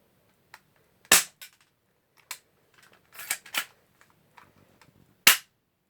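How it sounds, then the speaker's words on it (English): BB gun fired at a homemade metal target: several sharp, loud cracks spread irregularly, one strong shot early, a cluster of smaller snaps in the middle and another loud crack near the end, with no talk. "I'll just shoot this metal target that I created."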